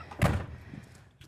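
A door on an Airstream Atlas Murphy Suite trailer swings shut with one short, solid thud near the start, followed by a brief fading rattle and a faint knock at the end.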